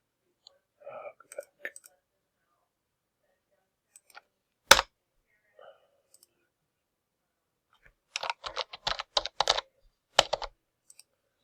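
Keys on a computer keyboard tap in short sparse clusters, with one louder click near the middle and a quick run of rapid typing near the end, close and quiet with long silent gaps.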